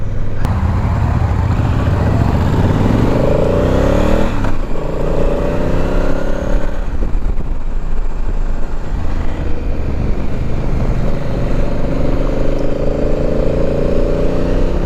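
A 2019 Honda Africa Twin motorcycle engine revving loudly up close, with rising pitch sweeps as it accelerates through gears, a dip, then another climbing rev run with a deep grunt.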